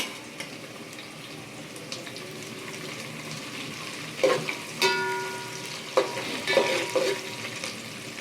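Chilies tipped into onions frying in a pan: a soft, steady sizzle under scattered light stirring clinks and scrapes, with several sharper knocks of a utensil toward the end.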